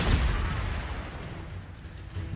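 The Confringo blasting spell in Hogwarts Legacy opens with a deep, punchy explosive thud that decays into a loud, rumbling wash of battle noise.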